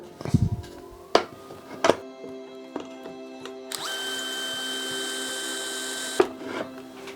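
A power drill bores into wood for a homemade laptop stand: clattering knocks and handling taps come first, then a steady close motor whine grinds for a couple of seconds before stopping with a sharp clunk.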